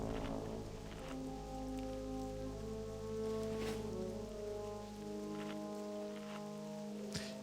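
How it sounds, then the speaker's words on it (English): Rain falls in the Swamp of Sorrows in World of Warcraft, a quiet, even hiss of drops under soft sustained musical tones, with no talk. "it's a rainy day in the Swamp of Sorrows"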